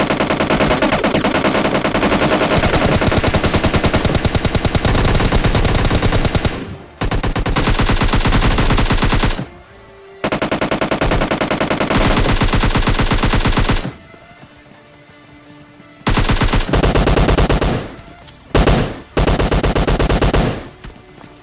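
Rapid automatic gunfire from a multiplayer shooting video game, loud and close, in long sustained bursts broken by a few short pauses.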